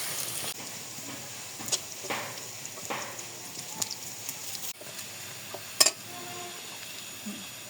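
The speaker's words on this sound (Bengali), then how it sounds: "তেলটা গরম হয়ে গেছে দিয়ে পেঁয়াজ কাঁচামরিচ দিয়ে দিতে এখানে যে পেঁয়াজটা আমি ভালো মতো না একটু ভেজে নেব" Onion and green chilies go into hot oil in a home kitchen for a koi fish and potato curry, giving a soft, steady sizzle broken by occasional clinks and stirring scrapes.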